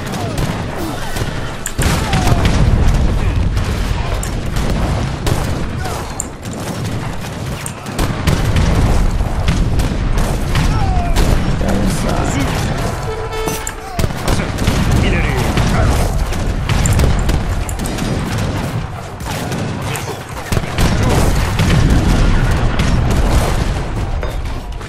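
Cannon fire and explosions in Age of Empires 3 Definitive Edition multiplayer battle, a dense, continuous barrage of booms and bursts layered with game mechanics, steady and loud throughout, with voices talking over it.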